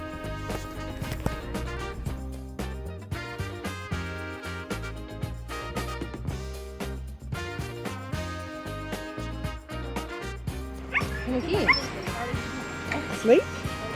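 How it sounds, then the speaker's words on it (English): A husky puppy whimpers and gives a few sharp yips near the end, heard over steady background music during an outing in Michigan's Upper Peninsula. "Here's my puppy."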